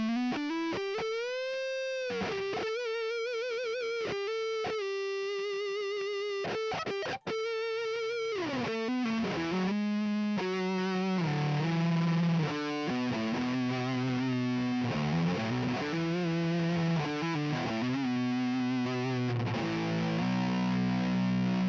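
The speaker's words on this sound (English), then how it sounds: "Let's switch it on over to the neck position and get an idea of what that sounds like." Heavily distorted electric guitar through a headless DIY guitar's neck-position EMG 81/85 active pickups, played alone as bending lead lines and chugging riffs, a thick, saturated, sustained tone loud and close throughout.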